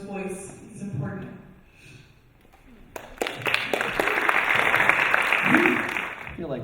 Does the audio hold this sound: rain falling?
no